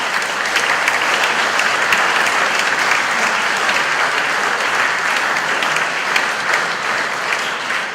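A hall audience gives sustained, dense applause at an academy celebrating the 80th anniversary of the Škofja Loka Museum Society. The clapping stays loud and steady for the whole stretch.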